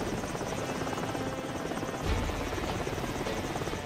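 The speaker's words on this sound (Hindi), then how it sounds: "छोटू लंबू हेलीकॉप्टर लेकर जंगल की तरफ बढ़ते हैं और जंगल में गुफा के पास उसे लैंड करा देते हैं।" A helicopter touches down in a jungle clearing near a cave, its rotor throbbing steadily and loudly throughout with a brief surge in the middle.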